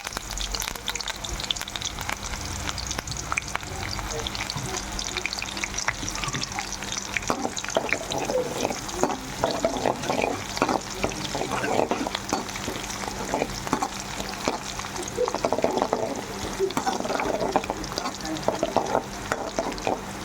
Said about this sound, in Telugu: ముందుగా బాండి పెట్టుకొని అందులో లైట్గా ఆవాలు వేసుకుంటున్నా. తర్వాత ఎర్రగడ్డలు, కొద్దిగా కరివేపాకు,